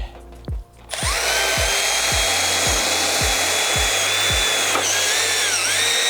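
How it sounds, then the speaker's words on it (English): A power drill whines steadily and loudly, drilling holes in the metal of a Duratuf kitset door frame with a continuous grinding hum and a few brief pitch shifts near the end. "as you pull your drill out, it's a good idea just to give it a little wiggle"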